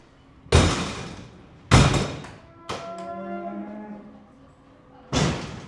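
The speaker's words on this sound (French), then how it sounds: "Les vaches qui viennent du marché à Ussel." Cattle brought back from the market at Ussel by a livestock transport firm, with a few loud, close thumps or knocks from the animals against a trailer or pen and a faint, drawn-out moo in between.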